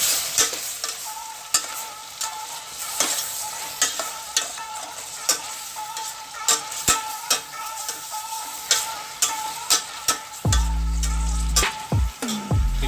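Vegan tofu chilli with soy sauce is stirred in a hot pan, with a constant sizzle under regular sharp clicks of a utensil against the pan. A louder hissing burst comes near the end.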